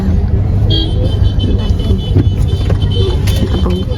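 Busy road traffic rumbles steadily, with short car horn toots cutting through now and then and faint voices in the background.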